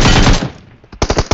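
Close, loud automatic gunfire in PUBG Mobile on the Erangel map: a rapid burst of shots, a brief lull, then another sharp burst of several rounds.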